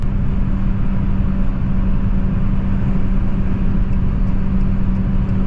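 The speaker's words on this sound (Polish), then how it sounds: "A elektryk gada na postoju, jak poprzednik, to znaczy głośnik udaje, że brzmi podobnie, do momentu jak wciśniemy gaz." Abarth 500e electric car idling while its external speaker plays a simulated petrol engine exhaust note, a steady, loud, continuous drone with no speech.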